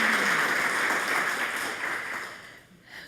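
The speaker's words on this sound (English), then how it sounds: "Please clap." Audience applause at a climate conference session, a moderate burst of many hands clapping that holds steady and then fades out near the end, with no talking over it.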